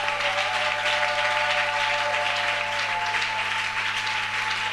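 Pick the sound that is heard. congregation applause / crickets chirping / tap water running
congregation applause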